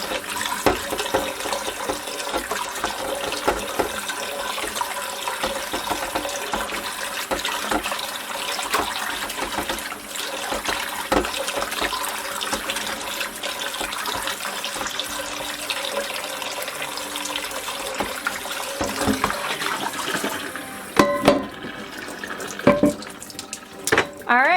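Tap water runs steadily over a cast iron skillet as it is scrubbed in a sink, a continuous splashing rush with faint scraping. Near the end the flow stops, leaving a few drips and clinks.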